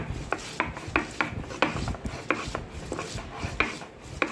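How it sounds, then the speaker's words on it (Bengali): Ginger, green chilli, salt and coriander leaves being ground on a stone: a steady rhythm of rasping, scraping strokes, roughly two per second, close and alone, with no talk. "প্রথমে আদা, কাঁচামরিচ, লবণ আর ধনের পাতা এগুলো বেটে নিতে হবে।"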